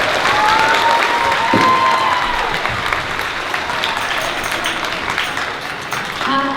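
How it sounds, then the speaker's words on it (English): A spring school music concert audience applauds two soloists with loud, sustained clapping and some cheering, while a faint tone rings briefly beneath it. "Let's give them a round of applause."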